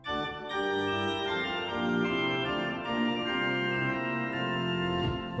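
Bovenkerk Kampen pipe organ, Rugwerk registration with a 1-foot stop added, sounding a brilliant, dense chordal passage with shimmering upper pitches, held tones shifting steadily and loudly without pause.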